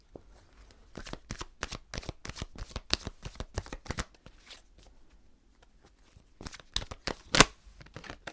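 Tarot cards are shuffled by hand in quick, crisp riffling bursts, a steady run of papery flicks that pauses midway and then resumes with a few sharper snaps, close and alone with no talking.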